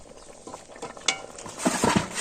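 Vegetables being stirred in a cooking pot in a Bangladeshi village kitchen, with a few soft scrapes and clinks of the spoon, then a louder burst of sizzling and scraping near the end, close and brief.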